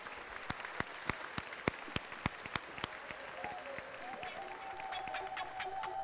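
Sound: audience applause welcoming a speaker

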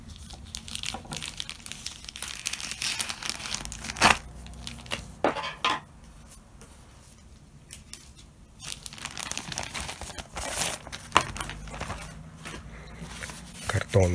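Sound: tearing open a cardboard envelope

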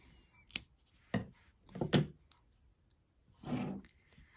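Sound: scissors snipping yarn tail on crochet amigurumi

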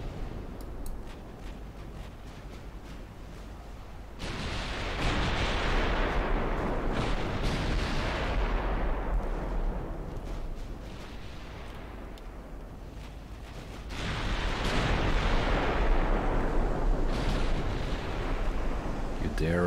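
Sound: battleship naval gunfire in Ultimate Admiral Dreadnoughts video game

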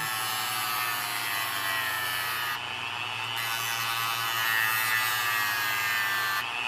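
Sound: sanding the edges of a small pole

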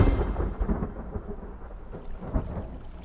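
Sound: thunderstorm thunder in an animated series

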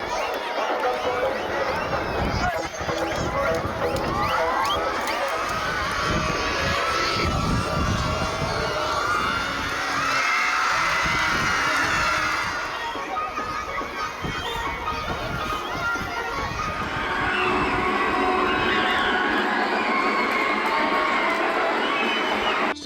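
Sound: school crowd cheering and applauding at Krishna Janmashtami pot-breaking

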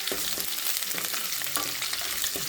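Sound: sautéing onions with mustard seeds and curry leaves

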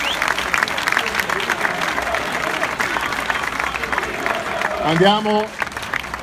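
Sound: audience applause

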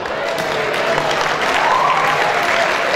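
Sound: audience applause

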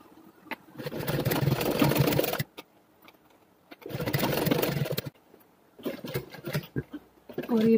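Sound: sewing machine stitching a pen-pencil pouch

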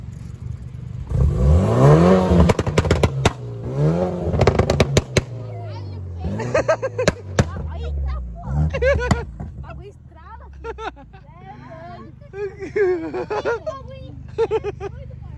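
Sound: car exhaust pops and backfires

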